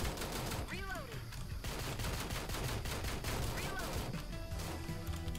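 Gunfire from the video game Door Kickers Action Squad, rapid bursts and scattered shots crackling continuously over a busy, loud game mix for several seconds.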